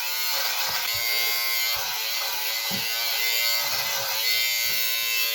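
Electric fabric lint shaver buzzing steadily as it removes pills from clothing, a continuous close motor whine with small bumps as the blade passes over the knit, no talking.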